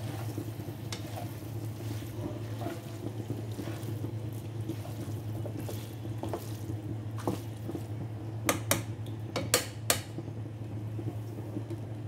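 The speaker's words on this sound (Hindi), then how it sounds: "मिक्स करते हैं नूडल्स को," Boiled noodles for chicken chowmein are tossed and mixed in a pan, giving a soft steady squishing and stirring over a low background hum, with a few sharp clicks of utensils near the end.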